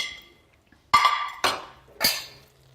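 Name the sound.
flash-fried prawns added back into risotto pan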